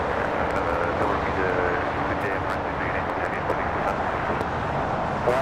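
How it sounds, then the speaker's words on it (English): A Japan Airlines Streamliner arriving from Osaka taxis toward the gates at Los Angeles, a low, steady engine rumble running throughout at moderate level, with voices heard over it. "It's a Japan Airlines Streamliner coming from Osaka, Japan, making its way to the gates."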